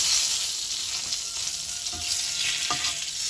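Nigella seeds and two bay leaves crackle and sizzle in a little hot oil, a steady close frying hiss with a few soft stirring clicks and no voices.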